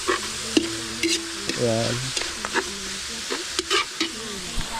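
Chayote being sautéed in a pan for an outdoor lunch by a stream, with stirring scrapes and a steady sizzle of frying, close and moderately loud while a person speaks briefly.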